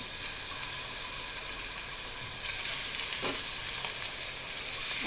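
Marinated fish frying in hot oil, a dense continuous sizzle that holds evenly throughout, with a few soft spatter pops and a faint bump of movement partway through.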